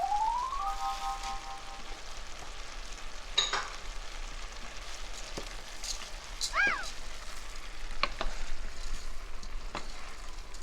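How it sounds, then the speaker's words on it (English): Lentils go into a sizzling pot of soup seasoned with cumin, giving a steady soft frying hiss with a few brief clinks and rattles from the pot over a low background hum. "We're going to add our lentils."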